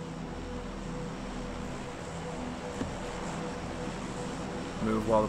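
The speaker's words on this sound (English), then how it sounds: "Move while the plane's covering my sound" Steady low drone of an airplane passing in PUBG Mobile, a broad continuous rumble holding level throughout, with a small swell of other game sound near the end.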